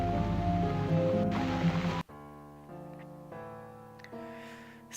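Rain in The Cat Lady game: a steady wash of rainfall for about two seconds, then it cuts off, leaving quiet sustained tones for the rest.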